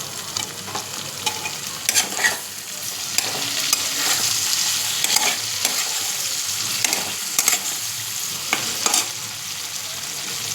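Tomatoes added to onion and capsicum sizzle steadily in a hot pan, with sharp scraping strokes of a spatula stirring at irregular intervals throughout, close and fairly loud.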